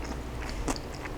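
Crunchy chicken salad with cabbage, jalapenos and green onions is bitten and chewed up close, giving a few sharp, crisp crunches over soft chewing noise.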